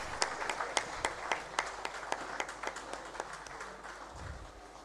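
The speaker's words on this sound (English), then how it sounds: "Please, let's keep the applause going for him." Light, distant applause rises at a bank trade seminar, with a few distinct claps standing out over a soft, continuous patter from the audience.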